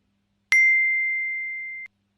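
A phone notification rings out as one clear, bright electronic ding that sustains as a pure tone for over a second before cutting off, alone in a quiet room.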